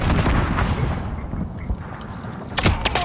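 Grenade and tear gas going off in a shooter game: a loud burst of blasts and rumbling booms at the start, fading into a hiss, then more sharp impacts near the end.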